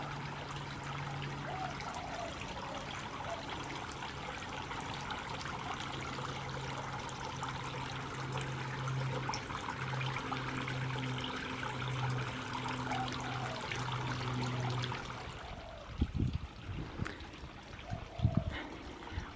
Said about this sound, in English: we will have the beautiful sounds of trickling water in the backyard